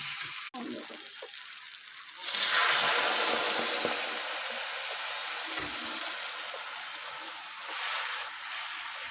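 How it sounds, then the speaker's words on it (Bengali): Hot water pours into a pan of potato and paneer curry, a broad rushing splash that surges in after a quieter start and keeps gushing steadily to the end, close and fairly loud. "এবার এখানে আমি গরম জল ঢেলে দিই।"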